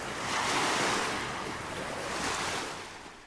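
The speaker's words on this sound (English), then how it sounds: "Here you can listen to the waves." Waves washing onto the Lake St. Clair beach, a steady close wash of surf swelling and easing with light wind noise and no voices.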